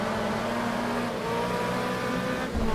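A race car engine in the Automobilista racing game drones steadily as the throttle is worked, a sustained tonal hum with small rises and a brief surge near the end.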